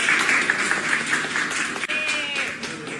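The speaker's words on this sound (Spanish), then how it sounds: "Pero un aplauso para la teacher." A class applauds the teacher, with a dense burst of many hands clapping together that holds steady for around three seconds, with no clear speech over it.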